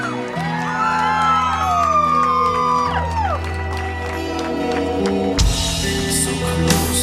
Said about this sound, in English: A big round of applause as they move their way into the first dance